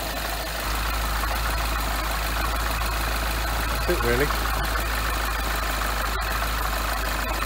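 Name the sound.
silver coupe car engine idling after start-up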